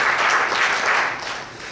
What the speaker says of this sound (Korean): 여러분 저기 박수 한번